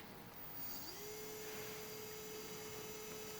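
A Dedeco Moto Tool rotary tool spins up and runs at 35,000 RPM, a faint, steady high-pitched whine with a rising pitch at start-up, then holding level.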